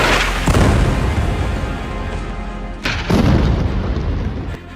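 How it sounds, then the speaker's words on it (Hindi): A bomb blast in Beirut during an Israeli strike on Lebanon, two heavy booms a couple of seconds apart, each followed by a deep rolling rumble that fills the air. "बेरूत में ये धमाका तब हुआ"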